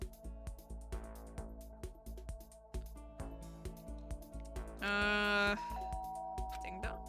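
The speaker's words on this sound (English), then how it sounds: "Ding dong. Sounds like someone's here." A doorbell rings in the Danganronpa: Trigger Happy Havoc video game, a single bright chime tone held for about half a second, clear and close over plucky background music.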